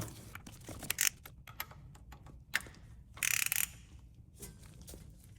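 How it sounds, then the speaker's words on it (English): A ratchet snugs the bolts on a Dorch DS25 high-pressure fuel pump in a BMW F30 340i with the B58 engine, sounding as quiet, close bursts of rapid clicking separated by short pauses. "Just tighten it with the ratchet."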